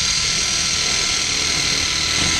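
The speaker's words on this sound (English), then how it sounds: "Put me a self-tapper right up in here." A drill drives a self-tapping screw into sheet metal while a supply air sensor is installed, a loud, steady high-pitched whirring grind that holds without a break.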